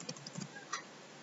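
Typing on a computer keyboard, a short burst of light clicks over the first half second followed by a single key tap, then quiet room tone.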